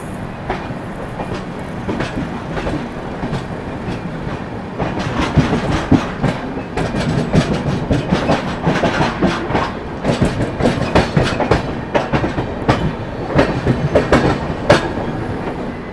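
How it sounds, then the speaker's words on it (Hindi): The West Bengal Sampark Kranti Express runs on rails with a steady rumble and rhythmic clickety-clack of wheels over joints, growing louder and busier partway through, with no voices. "चलिए निकल गई ट्रेन अपनी"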